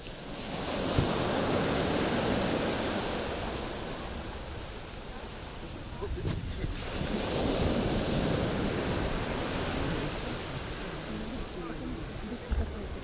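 Large sea waves breaking near the shore where divers come out of the water, a steady broadband surf wash with swelling surges and wind buffeting the microphone throughout.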